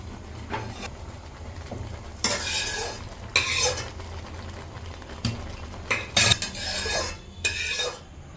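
A tempering of spices sizzles in a pan for a Tamil Nadu–style moong dal kootu, with bursts of frying hiss and the clink and scrape of a spoon stirring against metal, close and without speech.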